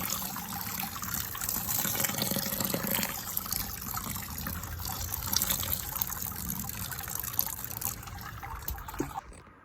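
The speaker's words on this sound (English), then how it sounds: "Just going to rinse the grain with a couple of kettles of water." Water from a couple of kettles is poured over grain in a beer mash to rinse it, making a steady trickling and splashing stream that runs for nearly ten seconds before cutting off.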